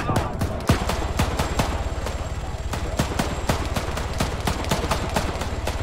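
Rapid bursts of automatic gunfire and repeated single shots from the video game Arma 3, dense and loud throughout, with a voice briefly audible underneath.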